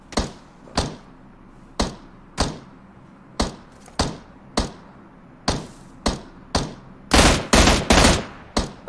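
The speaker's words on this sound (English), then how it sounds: "Who's that shooting?" Gunfire from PUBG Mobile: a dozen or so sharp shots spaced irregularly, loud and close, turning into a denser burst of rapid fire near the end, with no talking.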